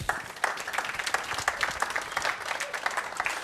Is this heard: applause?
yes